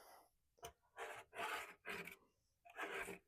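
A 2.5 to 3 inch putty knife scraping wax off a surfboard during stripping, heard as about five short, close rasping strokes separated by brief pauses, fairly quiet and with no talk.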